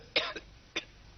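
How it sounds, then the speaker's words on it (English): A person coughs in a brief, dry double hack and then once more, near and fairly quiet, in an anti-smoking advert; no talk. "Haven't you coughed up enough?"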